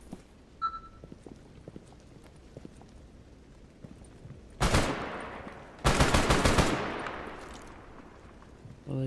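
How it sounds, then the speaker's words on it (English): Gunfire in the video game STALKER GAMMA: after a quiet stretch with faint footsteps, two loud bursts of rapid shots ring out close by, the second longer and decaying into an echoing tail. "What are they shooting at?"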